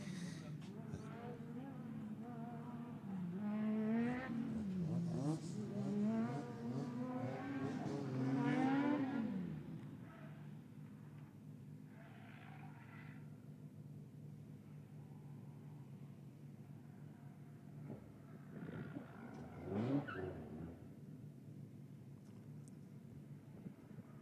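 An autoslalom race car on a run at the European Autoslalom Championship 2025 revs hard through repeated rising and falling engine sweeps, fairly distant, then fades to quieter bursts under an ongoing commentator's voice.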